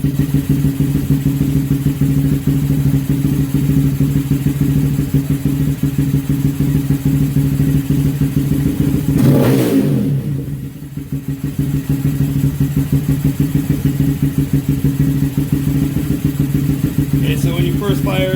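Honda Grom motorcycle engine idling steadily just after start-up, a close, even mid-pitched thrum with a brief dip and revving change near the middle, continuing alone.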